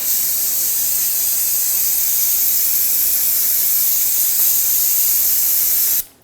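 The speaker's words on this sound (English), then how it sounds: "if you have a little bit of residual brake fluid, just want to clean that up. Use a little brake parts cleaner." A steady aerosol can of brake parts cleaner sprays continuously for about six seconds during a rear brake job on a 2021-2023 Jeep Grand Cherokee L, a loud close hiss that cuts off abruptly at the end.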